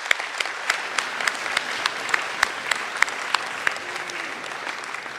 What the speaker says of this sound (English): Please join me in giving a round of applause and thanking all of those who donate to the scholarship program.